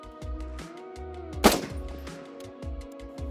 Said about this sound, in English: we're ready to make another shot to confirm